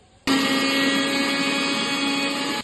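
A kitchen mixer grinder starts abruptly and runs at a loud, steady whine, grinding ginger garlic paste with mint and coriander for a biryani, with no one talking.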